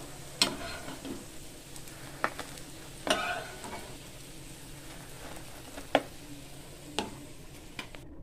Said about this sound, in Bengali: আমি বাকিগুলো ভেজে নেব একইভাবে।